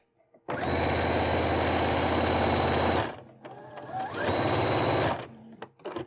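Sewing machine stitching a seam on a fabric scarf-hood in two steady, loud close bursts, the second shorter for a backstitch at the end, with brief handling noises between.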